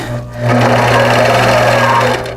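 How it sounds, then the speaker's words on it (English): Sewing machine running steadily for free-motion quilting with a laser guide and paper pantograph, a continuous close mechanical whir with a low hum that swells after a brief start and holds loud throughout. "I'm just going to go ahead and turn my machine on"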